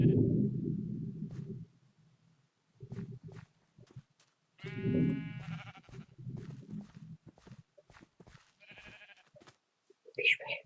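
Sheep in a village setting bleat several times close by, mixed with a voice calling and talking and some handling noise, the bleats coming in short bursts between his speech.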